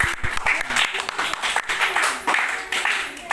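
Children in a government school classroom applaud during a Children's Day celebration, a dense, continuous patter of many small hands with voices mixed in.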